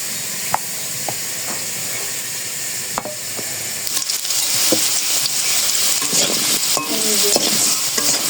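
Potatoes frying with dry chili and turmeric powder hiss steadily in a pan, with sharp scraping stirs and clinks that grow busier and louder in the second half.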